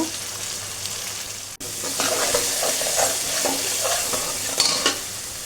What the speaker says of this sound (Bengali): দেওয়ার পরে একটু নেড়ে চেড়ে নিব।